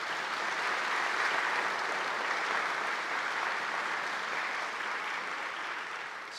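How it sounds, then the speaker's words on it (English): A crowd gives sustained, even applause for newly introduced guests at a university president's welcome back address. The clapping stays full and dense throughout, easing off only slightly near the end. "Let's give these folks a round of applause."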